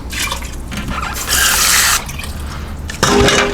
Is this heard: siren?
no